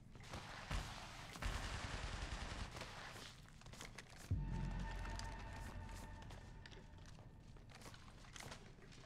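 Rapid gunfire rattles in Apex Legends Mobile during Bangalore gameplay: loud, dense bursts of shots with heavy thumps, one especially strong blast near the middle, and firing continuing steadily throughout.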